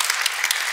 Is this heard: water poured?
no